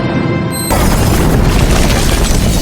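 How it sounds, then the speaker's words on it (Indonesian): A laboratory blows up in a film scene, a sudden loud boom after a brief quieter moment, followed by a sustained heavy roar of blast and debris that fills the rest of the moment without any voices. "Lalu Brandon menekan ponsel yang membuat laboratorium seketika meledak"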